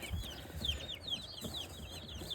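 Many two-week-old chicks peep and cluck together in continuous high chirps, steady and close, with a soft low rumble underneath.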